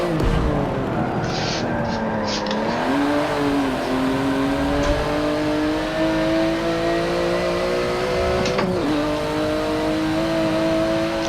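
A race car in the Forza 7 driving game revs and shifts through a lap, its engine tone rising and dipping in steady sweeps with a brief gear change near the end, loud and continuous.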